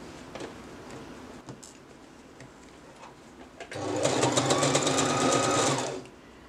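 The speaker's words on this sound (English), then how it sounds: "So now that this is the permanent stitch, don't forget to lock stitch." A sewing machine stitches a lock stitch at a permanent seam: a fast, steady mechanical whirr lasting a couple of seconds after quiet handling noises, fairly close and loud.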